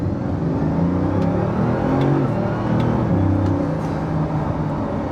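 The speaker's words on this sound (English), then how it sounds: "even with the exhaust, it just sounds like this rumble of power." A Bugatti Veyron engine rumbles steadily and loudly from inside the cabin under turbo boost, a deep continuous drone with a slight whirring edge.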